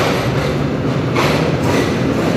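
Jaffar Express train at Lahore railway station, a steady loud rumble of a passing train with rolling wagon noise and a brief hiss of brakes or air midway, continuous throughout.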